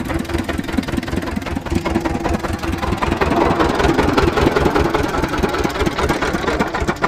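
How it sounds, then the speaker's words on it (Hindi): An engine runs steadily at idle, a loud close rumble with a knocking, vibrating texture that swells slightly midway and continues without pause, with no clear talk over it. "पहले इंजन बंद कर जल्दी।"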